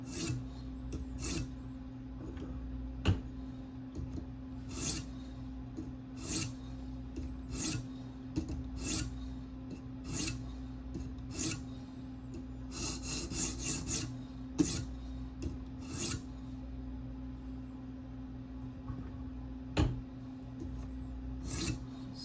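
A K390 steel Spyderco Delica blade being resharpened on a TSProf K03 guided sharpener, steady rhythmic rasping strokes of the stone along the edge, close and fairly loud.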